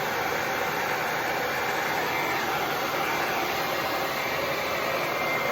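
Hair dryer blowing air onto the scalp, a steady, loud, continuous whoosh close by that holds unchanged throughout, with no talking.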